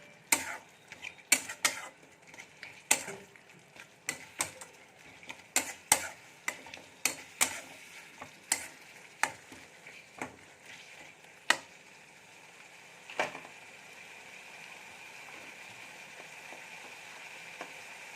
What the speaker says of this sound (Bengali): গ্যাসের ফ্লেমটা লো করে একটু সময় ধরে মশলাটাকে কষিয়ে নিতে হবে